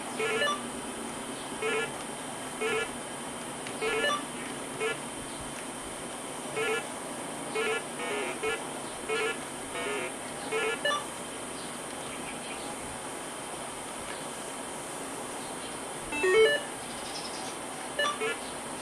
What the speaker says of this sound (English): It does sound a bit different with real PC Beeper